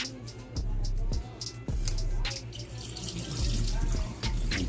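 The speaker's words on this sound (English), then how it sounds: "Let me drain this water." Water being drained from thawed shrimp, pouring and splashing steadily into a sink with gurgles and a few louder sloshes, close and continuous throughout.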